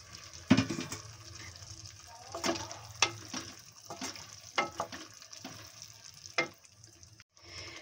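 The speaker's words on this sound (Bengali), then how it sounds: "এখন আমি দিয়ে দিচ্ছি এর মধ্যে অল্প পরিমাণে জল।" Potato curry cooks in a pan after a little water is added, with bubbling, sizzling and intermittent stirring clatters close by, uneven bursts over a soft steady hiss.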